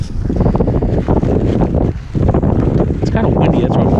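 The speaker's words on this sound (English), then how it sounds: "It's kind of windy" Gusty wind buffets the microphone outdoors during a trash-picking outing, a loud rough rumble that rises and dips, with a brief lull midway.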